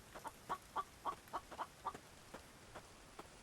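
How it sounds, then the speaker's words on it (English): A rooster in a video game clucking, a series of about six evenly spaced short clucks followed by a few fainter ones, quiet and close with no talk. "We've got a rooster out here."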